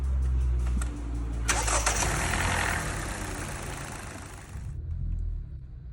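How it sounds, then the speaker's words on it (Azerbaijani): A Hyundai i40 engine cranks and fires after an ignition coil replacement, a brief starter whir catching into a steady idle, close and fairly loud, then cutting off near the end. "bir dənə xotlayıb yoxlayaq"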